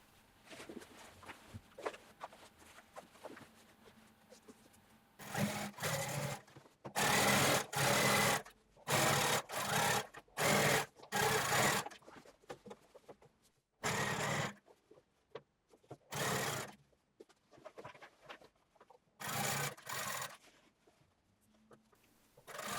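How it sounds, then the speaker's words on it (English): A sewing machine stitches a jeans seam through thick denim layers in repeated short bursts with pauses between, the motor starting and stopping several times, fairly loud and close with no talking. "take your time stitching over the thick layers"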